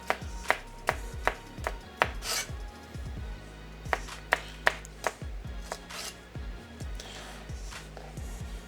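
A knife chops a bell pepper on a cutting board with rapid, loud, close thumps in an irregular rhythm, interspersed with softer scraping and brushing between cuts.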